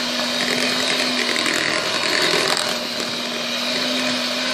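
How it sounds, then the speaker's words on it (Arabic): An electric mixer beats cake batter for rocher-style nut cakes, giving a steady, loud, whirring drone with a constant motor hum that runs unbroken throughout, with no voices. "هكذا نوصل الخلط"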